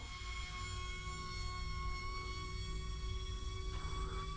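A BOOMIN Flerken model aircraft with its engines at full throttle, a steady high electric whine with sustained tonal overtones, fairly faint and distant, holding constant throughout.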